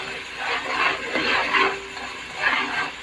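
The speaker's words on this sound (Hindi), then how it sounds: "ये देखिए मसाला भून चुका है।" Masala spices fry in hot oil for mutton paye, giving a continuous close sizzle that swells and fades as the mixture is stirred.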